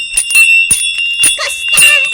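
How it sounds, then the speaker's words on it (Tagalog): Small bell on a sheep, ringing in a few quick jingling bursts with bright sustained metallic tones, close and fairly loud, with a voice in the background. "Kampanilya ni Karnero dayjay."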